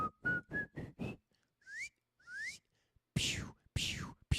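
A person whistles a quick run of short rising notes, then a few longer upward-sliding whistles, imitating a trading guru watching the price climb; close, clear and alone with brief breathy gaps.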